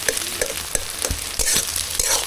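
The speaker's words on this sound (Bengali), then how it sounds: "ডিমটাকে আর কি ঝুরঝুরে করে এখন ভেজে নেবে।" Egg is scrambled and fried into fine crumbs in a pan, with a loud, busy sizzle under brisk, repeated scraping and stirring strokes that come every few tenths of a second.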